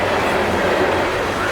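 A loaded CSX coal freight train rolls past close by, its dense steady rumble and rail noise unbroken across the short stretch.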